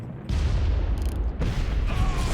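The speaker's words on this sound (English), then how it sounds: "His fate is eventually sealed with a few explosions" Heavy explosions in Far Cry 1, a dense, booming low rumble with two sharp blasts layered in close succession, loud and continuous across the short stretch.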